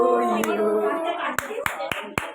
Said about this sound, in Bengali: হাততালি দাও হাততালি দাও হাততালি দাও ভালো করে